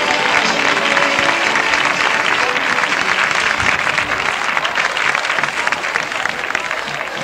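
A crowd gives loud, sustained applause for the herald of a romería in 1990, dense even clapping throughout with no break.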